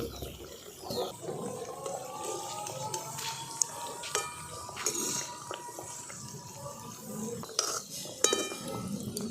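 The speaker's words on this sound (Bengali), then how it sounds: "আঁচটা কিন্তু একদম খুব কম আছে এগুলোকে ভাজতে হবে" Pieces of biscuit dough made from flour frying gently in oil on very low heat, a soft sizzle beneath clinks of a metal utensil against the pan and occasional scraping.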